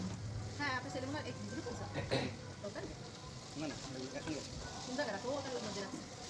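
Paneer cubes frying in a pan with tomato sauce and chili sauce, a steady sizzle with stirring scrapes running throughout, under continuous talk.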